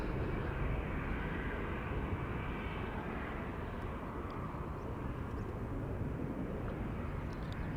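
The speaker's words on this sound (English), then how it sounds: "And we have a 737-900 to Edinburgh" A Boeing 737-900 departing Amsterdam Schiphol for Edinburgh produces a steady, broad jet engine roar at close range, holding level without pause and with no voices.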